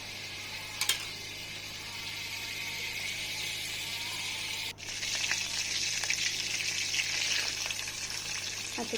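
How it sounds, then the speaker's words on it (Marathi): Cumin seeds crackling and sizzling in hot oil for a Marathi-style tempering, a steady close hiss with a brief sharper pop early on and a louder, busier stretch in the second half. "तेल गरम करून त्यामध्ये मस्त जिरे टाकून छान फोडणी देऊया"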